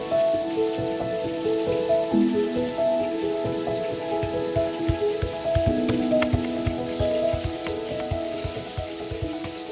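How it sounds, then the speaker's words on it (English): Light drizzle falling outdoors on a gloomy day, a steady patter of fine drops on surfaces, mixed with tonal background sounds that run throughout. "this weather can't stop us from embracing nature and a light drizzle"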